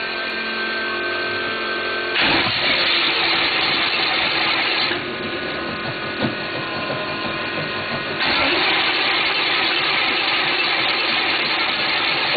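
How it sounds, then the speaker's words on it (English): A newly installed race car engine runs at a steady idle, its dense mechanical drone rising in a couple of step-like revs as the throttle is held partly open, with no talking over it. "we're gonna fire up the new motor that got put in Arizona"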